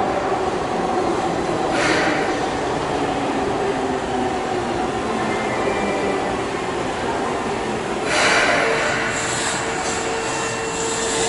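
A Keihan express train bound for Yodoyabashi stands at platform 3 of Sanjo station, giving a steady, moderately loud rumble and hum throughout with a couple of faint swells and no speech.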